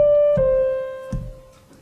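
A single sustained instrumental note rings out, then a second note sounds after a short pause, the two tones holding roughly equal length before fading.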